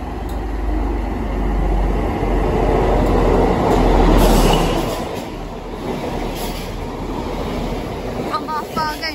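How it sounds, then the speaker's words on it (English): A Midland Pullman train passes through Devonport on its way to Penzance, a loud continuous rumble of rolling stock that swells and fades over several seconds, with some wheel noise toward the end. "lovely Midland Pullman going through Devonport"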